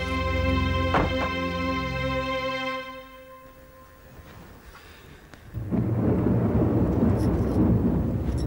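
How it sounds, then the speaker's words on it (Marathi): A deep rumble of thunder fades into a quieter lull, then a dense, loud hiss of heavy rain starts abruptly and keeps going. "एवढा पाऊस पडतोय"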